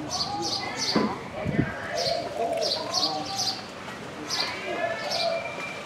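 Repeated high bird chirps in short bursts over a steady background, with lower calls and a couple of thumps; a clear songbird singing throughout.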